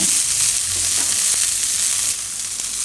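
Broccoli sizzles with salt in a hot pan, a steady loud hiss of frying with faint stirring clinks, close and continuous without talk.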